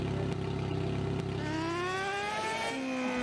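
A Yamaha XJ6 motorcycle engine runs close by, idling steadily and then revving up, its pitch climbing smoothly over the last couple of seconds, loud and alone.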